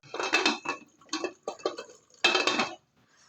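A metal lid clatters and clinks onto a cooking pan of oily brinjal curry, several short, close, separate knocks and scrapes followed by quiet.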